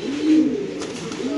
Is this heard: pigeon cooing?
yes